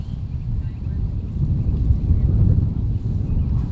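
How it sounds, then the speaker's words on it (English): Strong gusting wind buffets an outdoor high school baseball field, a steady low roar of wind noise that swells and eases over a few seconds with no voices. "Boy, it is whipping wind here now."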